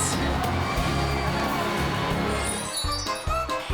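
A parade crowd cheering, a dense, loud wash of voices and shouts held steady, then thinning near the end into scattered calls and clinks.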